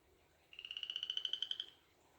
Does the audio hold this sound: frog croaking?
yes